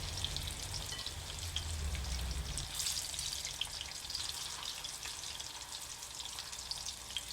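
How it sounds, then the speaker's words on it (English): Prawn and vegetable tempura deep frying in hot oil makes a dense, continuous bubbling crackle, close and fairly soft, with a low rumble dropping away partway through and no talking. "Coat the batter thinly and put them in the oil to deep fry."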